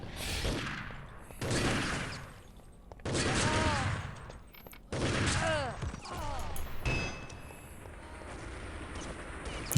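Grenade blasts and gunfire in a Nations Cup team shooter match between Germany and the United Kingdom, loud bursts recurring every couple of seconds among clattering shots and mechanical noise.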